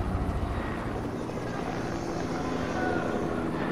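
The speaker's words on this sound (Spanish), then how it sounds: "Son dos helicópteros, güey, no mames." Two helicopters fly in the game Fortnite, a loud continuous rotor and engine roar that fills the background steadily.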